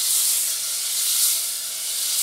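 Butter sizzles in a saucepan over medium heat, a steady close-up hiss that swells and eases slightly but never stops, with no voices.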